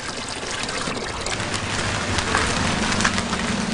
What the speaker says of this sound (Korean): 채소 씻기가 끝나자 큰 통에 물을 가득 담는다.